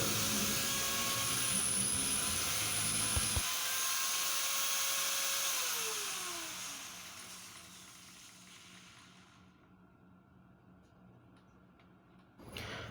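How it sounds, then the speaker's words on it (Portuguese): A Makita M9510 angle grinder with a faulty rotor whines at high speed with a harsh, uneven rattle, then cuts off and spins down, its pitch sliding lower as it slows. "A máquina gira normal, ela tem força tudo, só que ela está fazendo um barulho muito estranho."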